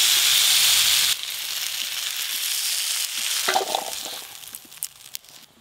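Vegetables frying in a pan give a loud, close hissing sizzle that drops after a second, then continues more softly with occasional scraping and clinking as they are stirred.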